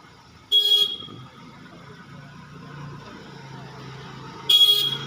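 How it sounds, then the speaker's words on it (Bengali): A car horn sounds during a driving lesson on a road, two short loud honks spaced about four seconds apart over a low idling engine rumble. "আস্তে আস্তে ক্লাচ ছাড়ো, হর্ন মারো, হর্ন মারো।"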